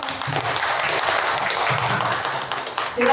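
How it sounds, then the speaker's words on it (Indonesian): Audience applause at a seminar on positive school culture, steady clapping from a roomful of people lasting about three seconds before tapering off. "Tepuk tangan."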